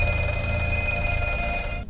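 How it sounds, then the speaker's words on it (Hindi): Telephone ringing as a steady, continuous electronic ring with a sustained buzzing tone, loud and close, cutting off abruptly at the end, with no voices. "तभी दोबारा फोन बजता है।"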